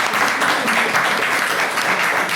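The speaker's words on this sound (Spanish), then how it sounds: "Un aplauso." Audience applause at a public event in Catalonia, a dense steady clapping from a full crowd that fills the whole moment at an even, loud level with no voices over it.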